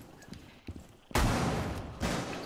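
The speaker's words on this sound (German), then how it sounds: "Da schießt ein Schuss" A sudden loud burst of gunfire in Rainbow Six Siege follows quieter footstep-like taps, then a second burst, with a sustained rumbling tail after each.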